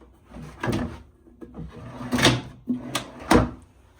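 Closet drawers in a Kyoto hotel room sliding open and shut several times, a series of close wooden knocks and scrapes with quiet gaps between them.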